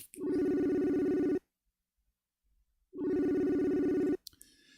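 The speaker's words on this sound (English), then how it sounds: "Answer the phone. It's your phone, Shay." A telephone rings waiting to be answered: two long, loud electronic ring bursts separated by a silent gap, with a brief click at the end and no voices.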